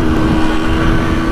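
A Yamaha RX 100 two-stroke motorcycle revs hard in first gear, a loud, steady buzzing engine drone held close to the microphone with no pauses.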